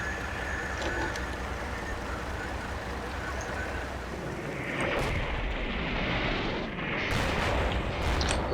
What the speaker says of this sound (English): there's also a second line of artillery landing behind the main line